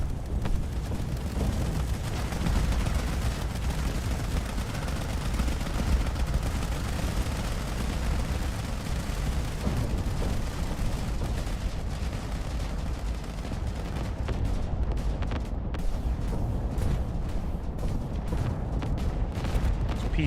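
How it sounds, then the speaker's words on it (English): Peacemaker guns in the space combat game Starcore pound against intact Spartan shields, a dense, continuous roar of overlapping gunfire and impacts that stays loud throughout, thinning slightly toward the end. "Peacemakers firing onto these fully intact shields of Spartan."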